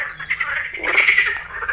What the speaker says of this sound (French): Ah, elles sont chaudes les grenouilles aujourd'hui.